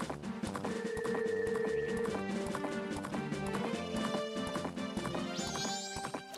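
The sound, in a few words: horse hooves galloping in video game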